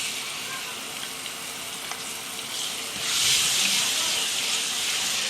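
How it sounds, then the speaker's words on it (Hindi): Ginger and garlic hit hot oil in a pan for mutton tandoori boti, a close, steady sizzle and hiss that grows louder and brighter partway through as the frying intensifies, with no talking. "अभी ये अदरक लहसुन डालेंगे।"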